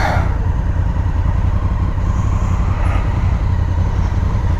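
Engine of a 2019 Honda Africa Twin motorcycle while riding, a loud, steady low rumble with a dense pulsing throb that holds constant throughout, up close with wind noise and no speech.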